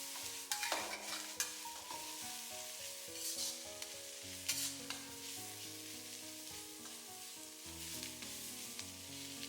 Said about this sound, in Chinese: 把包菜也加进来，然后个大火给它翻炒均匀，将胡萝卜丝、包菜炒软